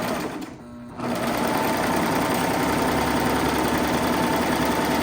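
A serger sewing machine serging off fabric runs with a steady high, buzzing whir that starts after a brief dip and continues loud and unbroken, close up.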